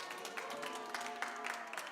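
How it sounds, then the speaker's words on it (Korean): A church congregation claps to welcome a new soprano into the choir during a Sunday service, a steady patter of applause from many hands, moderately faint and even throughout. "다 같이 환영의 박수 부탁드립니다"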